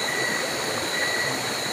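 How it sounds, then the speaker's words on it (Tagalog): Riverside water rushes in a steady, dense noisy wash, close and constant, with no talking. "medyo maingay yung tubig ngayon kasi nandito po tayo sa tabing ilog po"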